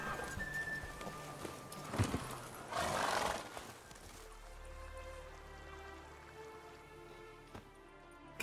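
Geralt's horse Roach galloping then being reined in, hooves clip-clopping with a whinny and a burst of louder rushing hoofbeats before slowing to a steady trot over soft ground, all in a video game.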